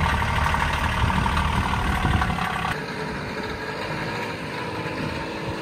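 Kioti K9 UTV on a Colorado homestead pulling away, a loud close engine rumble that drops in level midway as the vehicle moves off, then continues as a steadier, slightly more distant drone.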